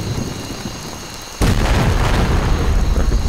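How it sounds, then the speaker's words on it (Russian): A grenade explodes in the Vietnam War shooter Conflict: Vietnam, a sudden loud boom that cuts in after quiet ambience and rolls on as a sustained rumbling blast. "я сейчас кину сюда гранату вот так вот"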